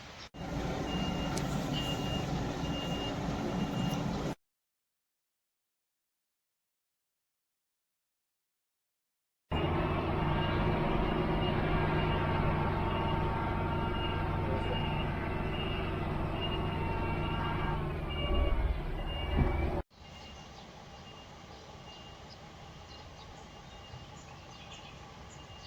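A truck with a trailer reversing during training, its reversing alarm beeping steadily and evenly under a low engine drone, with a gap of silence partway through.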